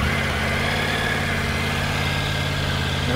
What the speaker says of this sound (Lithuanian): Reikėtų užvesti ir parodyti, kaip dirba 3 cilindrų variklis.